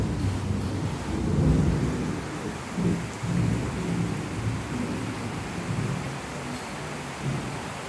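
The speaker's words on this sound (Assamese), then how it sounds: "মোৰ বাৰাণ্ডাৰ পৰা তোমালোকক দেখুৱাইছোঁ বৰষুণ" Heavy rain pours down outside a verandah, a dense, steady roar with low rumbling swells, close and loud without voices.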